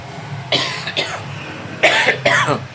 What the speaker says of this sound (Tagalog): Pasensya na po. Tao lang. Inuubo. Inuubo ko guys.